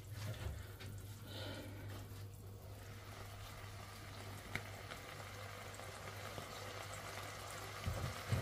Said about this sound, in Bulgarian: Започна да ври, защото котлона ми беше още включен.